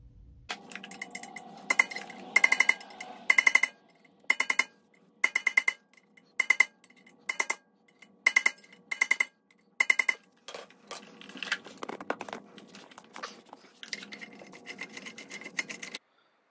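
Metal strikes ring out as a tab washer is pounded flat on a Dana 30 axle, sharp close clinks in quick bursts of several blows, separated by short pauses, with quieter rubbing and tapping in between.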